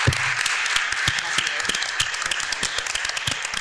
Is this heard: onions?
no